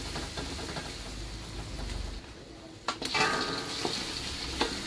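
Garlic and onion sauté in oil and butter for pork afritada, giving a continuous close sizzle with a low rumble early on, then sharper stirring clatters and utensil scrapes against the pan near the end, with no talk.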